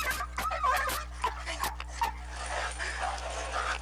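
A skittish stray dog struggles against a catch pole beside a truck, giving sharp yelps, whimpers and panting bursts over a constant low engine hum.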